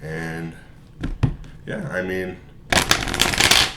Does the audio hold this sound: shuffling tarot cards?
yes